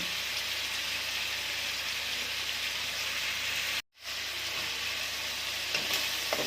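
Spinach and shrimp with turmeric, cumin and salt frying in a pan: a loud, steady hiss-like sizzle running throughout, cut by a brief total dropout near the middle, with no talking.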